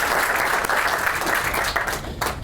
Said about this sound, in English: So let me get a round of applause for our legislators and all the support they give today